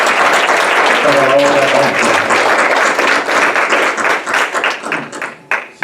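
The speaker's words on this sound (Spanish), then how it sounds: "Démosle otro fuerte aplauso" A church congregation claps loudly in a dense, sustained wave of applause, with a brief voice under it early on, before the clapping thins into scattered claps and fades out.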